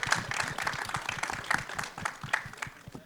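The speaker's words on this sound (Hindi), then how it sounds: "जोरदार तालियां बजाओ, थोड़ी और बजाओ, बजाते रहो" An audience at a film trailer launch event claps and applauds in a steady, moderately distant burst of clapping without any spoken words.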